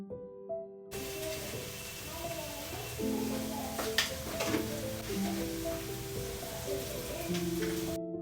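Chili powder, coriander powder, turmeric and salt fry and get stirred in a hot pan, giving a steady soft sizzle and hiss with occasional scraping, heard under melodic background music.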